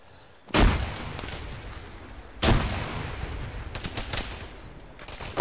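Grenade explosion in the Arma 3 military shooter game: two loud broadband booms about two seconds apart, each with a rumbling tail, followed by a spatter of sharper gunfire-like cracks, with no talking.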